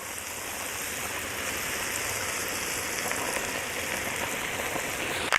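Butter and Worcestershire sauce sizzle steadily in a pan for taco filling, a dense, continuous crackling hiss like rain that holds even throughout, with a brief louder clatter right at the end.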